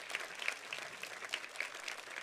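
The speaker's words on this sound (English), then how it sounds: "Please give them a round of applause." An audience claps for Korean visitors at a gathering in Pennsylvania: a soft, even patter of many hands clapping, somewhat distant and quiet, with no break over the short stretch.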